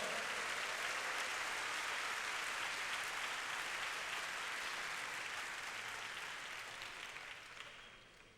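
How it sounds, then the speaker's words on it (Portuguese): A congregation applauds at a Sunday church service, a steady wash of many hands clapping at a moderate distance that holds evenly before fading away at the end. "Vamos aplaudir ao Senhor."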